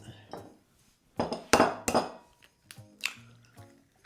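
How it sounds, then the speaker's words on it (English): Eggs cracked one after another into a dish for a Baileys panettone bread and butter pudding, with sharp taps and clinks of shell on the rim followed by soft wet drops, close and quiet. "we're going to crack them into our dish first"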